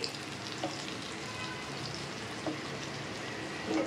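Eggplant curry being stirred in a pan after simmering under a lid, a steady soft sizzle throughout with a few faint scraping stirs, close and moderately quiet.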